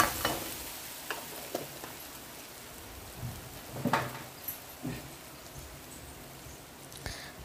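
Onions frying in a pan with a pinch of asafoetida for banana flower curry, a soft steady sizzle with occasional stirring scrapes and clinks, moderately quiet with no voices.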